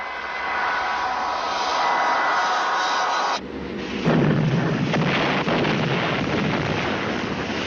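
Twin torpedo explosions strike a ship in a 1958 submarine war film, a heavy roar that cuts out and then swells into a louder, rumbling blast continuing to the end with no talking.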